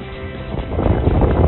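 Wind of around 20 knots blows from the south across a marina dock beside a sailboat, giving a rough, buffeting roar on the microphone. It swells over the clip from moderate to loud, with no speech.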